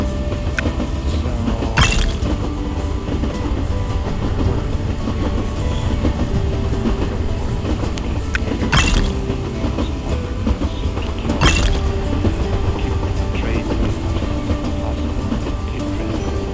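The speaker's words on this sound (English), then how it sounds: "So as you guys can see, the trains are running." Trains running on rails in the mobile game TrainStation 2: a loud, continuous rumble of wheels on track with rhythmic clatter and a few sharp metallic clanks, with no voices.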